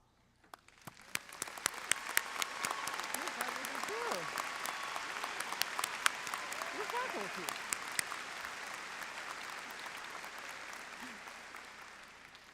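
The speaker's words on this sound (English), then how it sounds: "please stand and receive a round of applause." Audience applause for faculty at a spring college commencement ceremony: distant, fairly quiet clapping from a large hall crowd, with a few sharper individual claps near the front and a faint voice underneath, lasting over twelve seconds.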